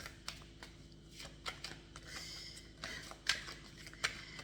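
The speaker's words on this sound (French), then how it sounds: "Je vais tirer une autre carte." Tarot cards handled and drawn from a deck, a series of soft, crisp papery slides and snaps spread irregularly over a few seconds, close and fairly quiet with no voice.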